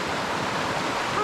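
Creek water flowing steadily at South Mountains Park, a broad, close rushing wash of stream noise with no break and no voices.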